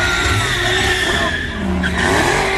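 A turbocharged, tuned 3.7 L V6 Cyclone Mustang, making over 600 rwhp with a 67/66 mm VS Racing turbo, drives close by. A loud, sustained engine roar with whining turbo tones and tire noise briefly dips near the middle before surging again.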